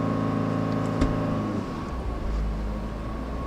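A Mitsubishi Montero Sport engine accelerates slowly from a gentle press on the pedal, a low steady engine hum that rises gradually in pitch after a brief knock, heard from inside the vehicle.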